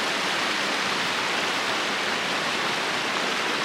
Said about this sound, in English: Okay, I've made it to the first river ford